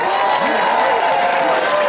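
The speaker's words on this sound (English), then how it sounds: "give me a round of applause" Steady crowd applause and cheering from a room of people at a benefit concert at the Indigo O2, continuous clapping with a bright wash of noise throughout.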